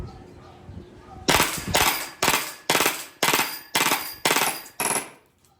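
An AA AAP01 airsoft pistol fires eight sharp, evenly spaced shots in a steady rhythm, each a crisp snap with a short ringing tail, following a quieter lead-in.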